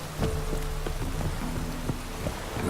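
Rainfall in the fantasy role-playing game The Witcher 3, a steady patter of drops hitting surfaces with a few sharper splashes over faint ambient tones.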